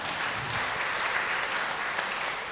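A congregation claps during a Sunday service at HKBP Cimanggis church, making a steady, even wash of applause that fills the short moment without speech.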